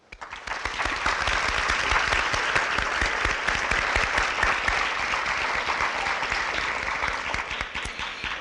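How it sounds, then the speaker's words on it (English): High school graduation audience breaking into a big, sustained round of applause, dense and loud, swelling quickly and holding steady. "I invite you all to give my class a round of applause"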